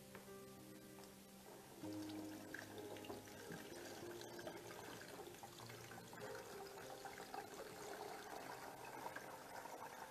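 Water runs steadily into a hydroponic tray of water spinach seedlings, a continuous soft pouring and trickling that stays quiet and even, with no talk.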